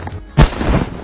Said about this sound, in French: L'explosion surgit.